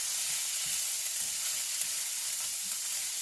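Vegetables sautéing with garlic in a pan on low heat, a steady close hiss and sizzle with faint stirring scrapes and no talking.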